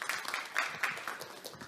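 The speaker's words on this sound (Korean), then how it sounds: "박수 한번 부탁드리겠습니다." Applause from an audience at a 2022 physician-scientist career concert, a dense crackle of many hands clapping at a steady moderate level, with faint voices mixed in.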